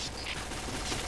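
Video game gunfire in a first-person shooter, a steady loud burst of rapid automatic shots that fills the whole moment without letup and without any voice.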